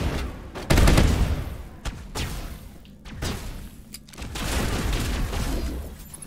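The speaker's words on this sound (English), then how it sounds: "sounds like the Halo gun. The plasma pistol." Weapon fire in Mass Effect, with a plasma-pistol-like character: repeated sharp, loud bursts with crackling impacts, spread across the whole stretch with short gaps between them and no talk.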